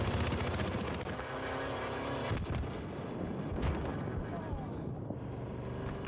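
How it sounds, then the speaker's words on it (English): A transport helicopter approaches in an online shooter game, its rotor roar blended with heavy artillery blasts and gunfire, loud and close throughout. "Chopper coming! That's a transport chopper"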